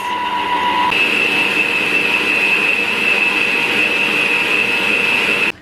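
An electric mixer runs steadily on sponge cake batter for a Victoria sponge, a loud continuous motor whine that rises in pitch after the first second and holds until it cuts off at the end.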